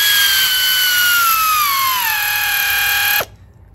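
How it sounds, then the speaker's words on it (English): A power tool whirs steadily with a slowly falling pitch for about three seconds, then stops abruptly, loud and close, while a ratchet runs in bolts slowly on a Grand Caravan during a heater repair. "I'm going to turn down my ratchet."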